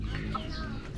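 Laying hens on a small egg farm cluck softly in a brief, low-level murmur of fowl sounds under steady background noise.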